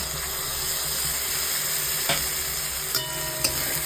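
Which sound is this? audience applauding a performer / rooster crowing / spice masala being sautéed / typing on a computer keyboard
spice masala being sautéed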